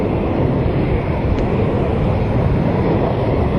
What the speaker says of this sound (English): The aircraft is now performing an adjustment turn, and after that it will achieve a high G turn maneuver.